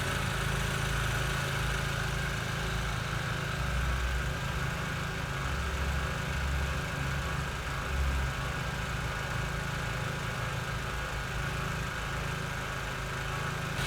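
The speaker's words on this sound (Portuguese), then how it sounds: "O motor aparentemente sem nenhum comportamento atípico em regime de marcha lenta" A combustion engine idles steadily at reduced pressure, about 2 bar, with no atypical behaviour: a continuous low rumbling hum with an even, unbroken drone throughout, fairly close and alone without talk.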